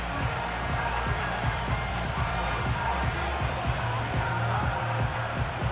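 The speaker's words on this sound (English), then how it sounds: "Crowd on their feet." A stadium crowd in the Madden NFL 25 video game roars steadily throughout a divisional football game, a broad continuous wash of cheering with faint low thumps beneath.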